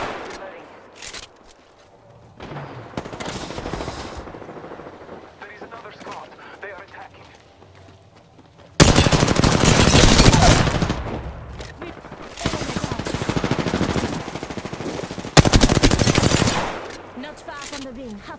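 Gunfire in an Apex Legends match: sparse shots at first, then long loud bursts of rapid automatic fire with short pauses between them, close and dense, with a voice speaking briefly.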